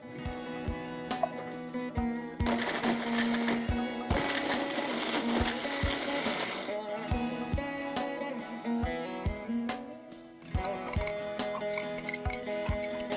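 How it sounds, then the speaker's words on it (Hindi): A mixer grinder whirs in loud bursts, crushing fried dough, starting and stopping several times as it pulses, with sharp clicks between runs. "अब हम इसे मिक्सर में क्रश करेंगे।"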